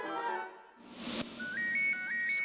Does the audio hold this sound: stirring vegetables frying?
no